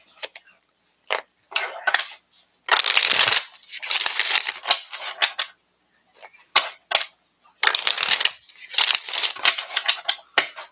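Tarot cards shuffled by hand in repeated bursts of crisp riffling and sliding, with short pauses between passes and a couple of longer, denser shuffles, close and fairly loud with no talking.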